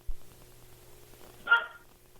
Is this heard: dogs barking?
yes